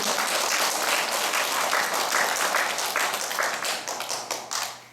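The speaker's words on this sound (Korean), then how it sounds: "우리 어머님께도 감사 박수" Steady clapping from a congregation at a charismatic prayer meeting, a continuous crackle of many hands that holds even and then thins and tapers off near the end.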